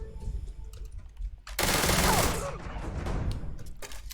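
A ballistic weapon in the video game Starfield fires a sudden loud sustained burst of gunfire that fades into rumbling, following quieter game sounds, with no talking.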